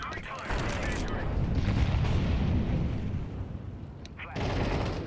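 Incendiary grenade burning in CS:GO, a loud, steady roaring crackle of fire that swells and holds for several seconds, with a brief dip before flaring up again near the end.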